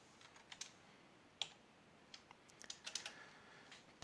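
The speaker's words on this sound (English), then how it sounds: "that's a lot of typing." Fingers type on a computer keyboard in an irregular patter of faint, close clicks and key taps, quiet and without speech, as code is entered during a lecture on R.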